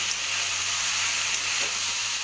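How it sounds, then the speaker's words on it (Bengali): Potatoes frying in oil in a pan, making a steady, close, bright sizzle that holds evenly throughout with no talking. "আলুটা লাল লাল করে ভাজার জন্য আমি মিনিট তিনেক সময় দেবো"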